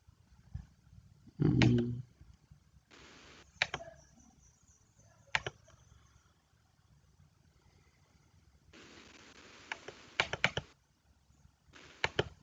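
Scattered clicks and taps on a computer keyboard, typing in short irregular bursts with pauses between, fairly close and quiet, alone with no voices.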